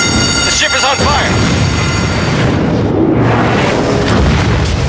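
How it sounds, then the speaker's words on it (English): A destroyer blowing up in the naval combat game World of Warships: a loud, dense boom and rumbling blast that runs continuously through the clip, with game voice lines heard faintly beneath it. "Enemy destroyer blown up."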